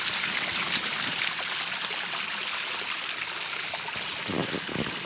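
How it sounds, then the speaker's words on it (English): A small waterfall spills into flowing spring water at a campsite, a steady, full rushing wash that holds constant close by with no voices. "That's a cute little waterfall."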